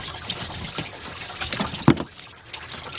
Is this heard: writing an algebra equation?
no